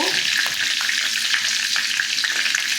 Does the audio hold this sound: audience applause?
no